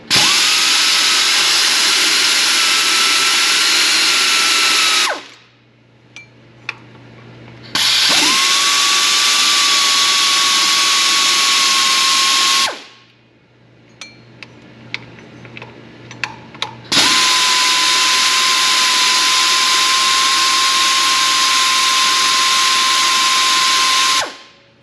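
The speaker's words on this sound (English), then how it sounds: "Gotta remove this power steering pulley. There's 3 13mm bolts." A power tool spinning out the 13mm bolts of the power steering pump pulley on a Chevy Colorado, three long loud whirring runs with short gaps of clicks and clinks between them, no talk.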